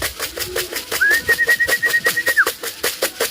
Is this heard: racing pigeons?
yes